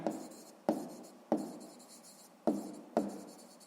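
A pen writing on paper in a quiet room, five short scratchy strokes each starting with a firm tap and trailing off, close and soft with no talking.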